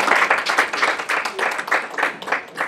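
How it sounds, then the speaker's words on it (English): Applause rises from the room after a vote at a student government assembly meeting, a brief patter of uneven claps from a modest crowd, fairly close. "Y'all can clap for that if you"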